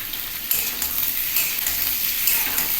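Chicken pieces frying in plenty of oil for dry chili chicken, a constant close hiss of sizzling with several sharper surges as the pieces are stirred, no speech.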